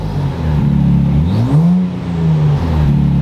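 A turbocharged Nissan Z's engine growls and revs nearby through an AWE exhaust, the pitch rising and dipping as the throttle is worked, steady and fairly loud.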